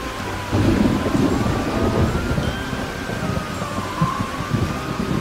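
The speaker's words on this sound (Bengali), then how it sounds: "ওদিকে যে গুড়ি গুড়ি বৃষ্টি শুরু হয়েছে" Drizzling rain falls with rolling thunder in an animated ghost story, a loud continuous rumble under steady pattering rain with no voices.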